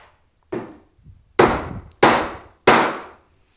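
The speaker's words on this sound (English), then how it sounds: "Did you hear how the tone went up on the third strike? That's because that chisel is in as far as it's going to go." A wooden mallet strikes a chisel cutting a mortise in wood by hand, five separate sharp blows, close and loud, each ringing out briefly, the later strikes harder and higher in tone.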